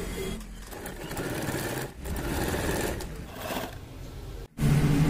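An electric sewing machine stitches a folded hem on a patiala pant, running in steady rattling bursts with brief pauses between runs and a sharp stop before a final close, loud run.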